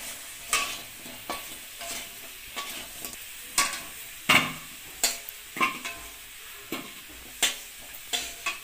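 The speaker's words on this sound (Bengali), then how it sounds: "লাল লাল করে আলু ভাজা হয়ে গেছে" Potatoes fry in a pan and are stirred, with a soft sizzle under a dozen or so sharp, irregular scraping strokes close by.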